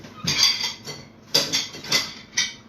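Metal cutlery clatters and clinks in several quick bursts as a home baker rummages through a kitchen drawer for a spoon while making cupcakes.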